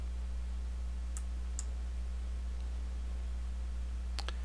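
A computer mouse gives a few sharp, faint clicks, two spaced apart and then a quick pair near the end, over a steady low electrical hum with no talking.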